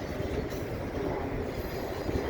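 A CP freight train rolls past at Dorval with a continuous low rumble and faint wheel noise, steady and moderately distant throughout.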